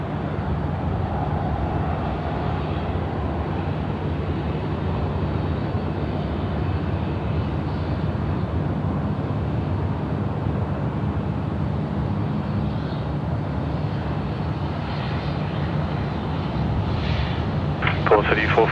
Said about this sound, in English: Scooter's now cleared for takeoff. Runway 34 left. Yeah, Airbus